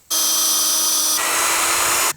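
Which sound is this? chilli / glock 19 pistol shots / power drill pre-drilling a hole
power drill pre-drilling a hole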